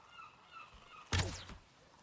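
A single loud honking bird call from Valheim, a short harsh burst with a falling tail, standing alone over faint ambient game sound.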